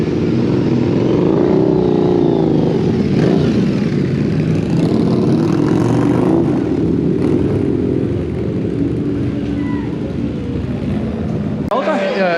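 Several Harley-Davidson V-Rod motorcycles idling and revving at a riders' meet, a thick continuous engine rumble close by, with people talking over it throughout.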